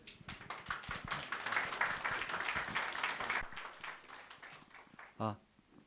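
A church congregation at a Sunday service applauds a pastor being welcomed to preach, giving dense, sustained clapping for about three seconds that thins out and fades, followed by a brief voice near the end.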